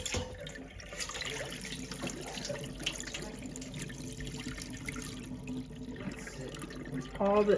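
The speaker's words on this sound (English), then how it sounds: "That was grapes, apples, and cucumbers that I washed in this water." Water runs steadily from a kitchen tap while grapes, apples and cucumbers are washed, a continuous close splashing flow for several seconds with a brief louder surge near the end.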